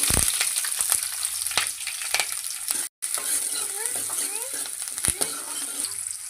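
Cumin, onion and green chillies fry in hot oil with a loud, continuous sizzle, broken by occasional stirring scrapes and a momentary dropout midway.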